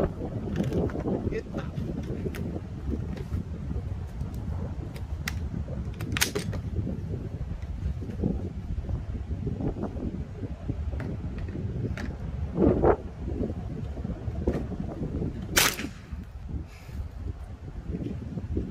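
Gusty wind buffets the microphone with a constant low rumble at an outdoor shooting range, broken by a few sharp clicks and knocks.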